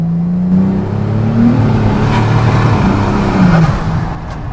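A 2JZ-engined Nissan S15 Silvia with an 8HP70 automatic gearbox accelerates from inside the car, with a loud, steady engine drone whose pitch climbs and then dips at a smooth gear change before rising again.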